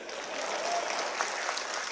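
Audience clapping at a political gathering with Punjab CM Mann and Kejriwal meeting a traders' commission, a dense, steady burst of applause from many hands, moderately distant and continuous throughout.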